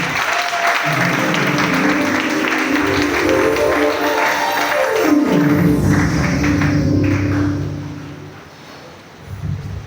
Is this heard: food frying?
no